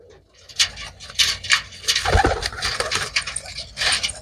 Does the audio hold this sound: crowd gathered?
no